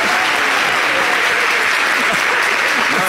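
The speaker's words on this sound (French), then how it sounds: "Il faut l'applaudir, on a un vrai papa ici." An audience claps for a guest in a large hall, dense continuous applause filling the whole stretch at close, loud level, with faint crowd murmur and voices mixed underneath.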